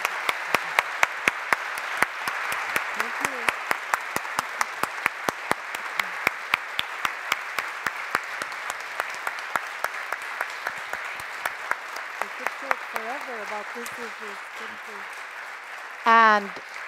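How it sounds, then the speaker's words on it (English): An audience at a symposium on peace and gender justice in diplomacy claps warmly and steadily for the speakers for a long stretch before the applause thins out. A few voices murmur underneath. "join me in a warm applause to the great speakers"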